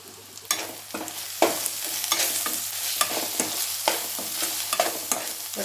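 A spoon scrapes and stirs turmeric, chilli and coriander powders into sizzling ginger-garlic paste in a pan for Chettinad quail gravy, with repeated close scraping strokes over a steady sizzle.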